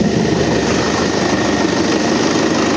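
Tractor engine running after a fuel pump replacement, idling steadily in a hangar with a continuous rough low rumble and clatter, close and loud, no voices.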